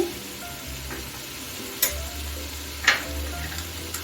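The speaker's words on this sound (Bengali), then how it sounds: "এখন আমি আগে থেকে কেটে রাখা টমেটোটা দিয়ে দিচ্ছি" Pre-chopped tomato added to a frying pan over a medium gas flame for a banana flower and prawn ghonto, giving a steady close sizzle with a few soft knocks from stirring.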